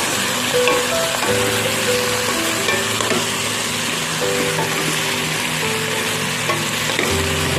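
Crabs tumble into a hot pan of ginataan gulay, a Filipino coconut-milk vegetable stew, setting off a loud, steady sizzle with stirring and scraping throughout.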